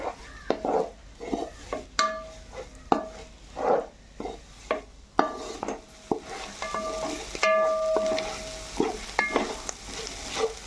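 A tempering for ponagantaku leafy greens fries in a pan, with a soft sizzle under repeated stirring, scraping and clinking of a utensil against metal, close by and without talk.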